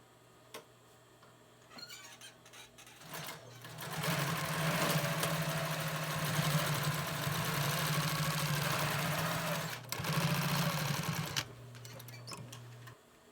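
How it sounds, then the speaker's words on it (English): Straight stitch sewing machine running through fabric, a steady mechanical whir that starts after a few seconds, runs continuously, pauses briefly, then resumes before stopping, with a low hum underneath. "this is our straight stitch machine"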